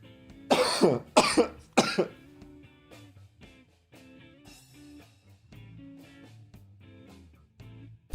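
Three loud, harsh coughs in quick succession, followed by quieter background sound.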